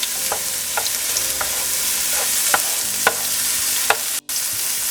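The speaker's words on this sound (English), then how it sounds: "And it's sizzling really loudly." Onions sizzle and crackle steadily in a hot pan, with a few scraping stirs and small pops; close and loud, with a brief drop near the end.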